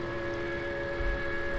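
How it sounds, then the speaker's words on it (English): A train passes in Farming Simulator 15, heard as a steady sustained horn-like whistle tone over a low rumbling rolling hum, fairly distant and even, with no talking. "And when you get to a certain place, you'd hear the train."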